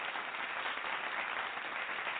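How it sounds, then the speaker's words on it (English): A steady wash of applause greets the band at a live show, an even, continuous patter of clapping from a small audience that stays constant throughout. "Let me give these guys a round of applause."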